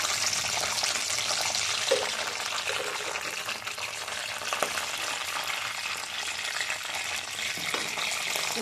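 Curry leaves and cumin seeds crackle in hot oil alongside cashews for Tamil Nadu style pongal, producing a constant, fairly faint frying hiss with a few small pops and stirring clinks.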